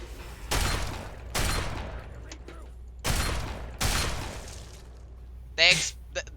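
Explosions in the Fallout 3 video game go off in a string of several sharp blasts, each followed by a decaying rumble of debris, with a brief high chime near the end.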